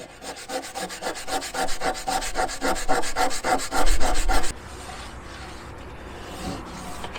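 Old adhesive being rubbed off the back of truck weather stripping: loud, close, rhythmic scrubbing strokes for about four and a half seconds, then they stop and leave quiet outdoor background.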